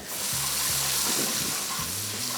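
Ginger and garlic frying in hot mixed oil and ghee, a soft continuous sizzle with light stirring scrapes, fairly quiet and steady throughout.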